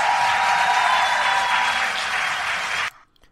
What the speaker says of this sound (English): these people are applauding